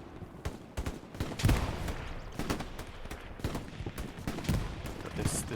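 Gunfire trades back and forth in the World War II shooter Hell Let Loose, scattered sharp cracks and short bursts at varying distance over a constant battlefield rumble, with a voice talking faintly underneath.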